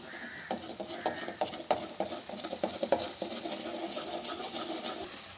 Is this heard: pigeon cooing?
no